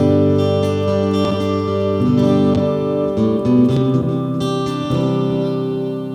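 Electric guitar, a Donner Hush I Pro travel guitar on its preset 2, played through a heavy effects preset, with sustained distorted chords and a reverberant tail, loud and continuous.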